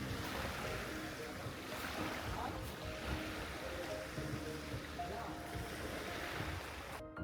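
Continuous rushing of water and wind from a boat moving across the sea near Padar Island, Labuan Bajo, Indonesia, with a low engine drone underneath, steady and loud.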